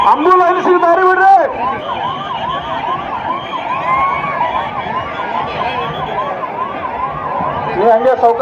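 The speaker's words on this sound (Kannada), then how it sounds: "ಆಂಬುಲೆನ್ಸ್ಗೆ ದಾರಿ ಬಿಡ್ರಿ." An ambulance siren wails steadily in a rapid, close, loud cycle as it pushes through a crowd at a political nomination rally in Bagalkot, with people talking under it.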